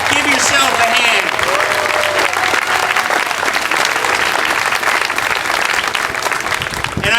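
A rally crowd applauding loudly and continuously, dense clapping with a few cheers mixed in, sustained at full strength throughout.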